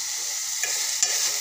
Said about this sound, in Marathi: असं भाजीला अधूनमधून छान मस्त असं परतत राहायचं